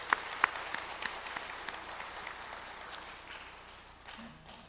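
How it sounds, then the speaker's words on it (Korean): Worshippers in a large Sunday church service clap together in praise, a few sharp, close claps standing out at the start before the dense applause thins and tapers off. "우리 주님께 다시 한번 영광의 박수 올려드립니다."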